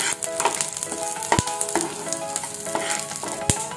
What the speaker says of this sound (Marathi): हे छान असं मिक्स करून घेऊया हे मसाले